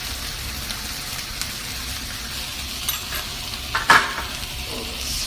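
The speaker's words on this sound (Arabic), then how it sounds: "ابدا اخلط شوي شوي، ابي لين ينشف عدل" Meat stirred in a pot with salt and sugar for machboos: a steady low sizzle with soft scraping throughout and a few sharper clanks toward the end, close and unaccompanied by speech.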